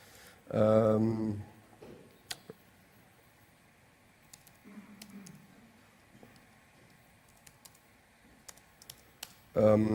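Keys clatter on a notebook keyboard in a lecture setting as a command is typed, light scattered taps between bursts of a speaker's voice at the start and end.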